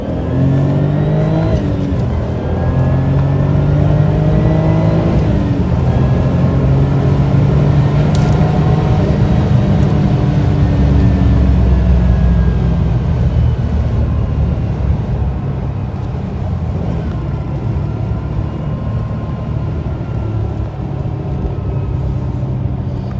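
A 1998 Porsche 911 (993) Turbo coupe in S specification accelerates hard, its loud engine note rising and pulling steadily close by for over twenty seconds with no talking.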